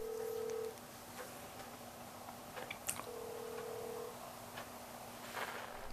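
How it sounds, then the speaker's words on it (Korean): A quiet telephone ringback tone keeps sounding on an unanswered call, a steady tone in two spaced bursts over faint background hiss. "혹시나 하는 마음으로 기다려보지만 신호음만 계속됩니다"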